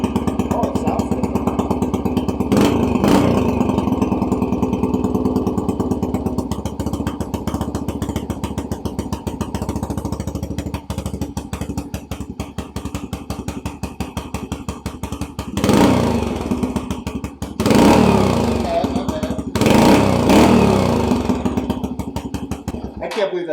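A Yamaha TT-R125 dirt bike engine runs with a steady, close, loud idle after starting on the electric starter without choke, then rises in a few sharp revs near the end while people talk over it.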